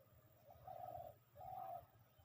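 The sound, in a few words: dove calling in a tree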